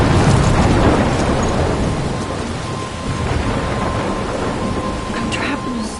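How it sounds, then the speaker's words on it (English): A loud thunderstorm in the video game Life is Strange, with heavy rain hissing steadily and deep thunder rumbling throughout, a dense roar that stays strong for the whole stretch. "I'm trapped in a storm?"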